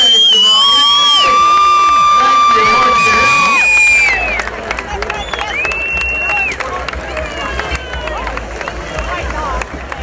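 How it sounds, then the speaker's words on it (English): At the US Open polo finals between Orchard Hill and Valiente, an outdoor crowd cheers and whoops for both teams, rising after a stretch of strong tonal sound and continuing under scattered voices. "let's have a big round of applause for both teams"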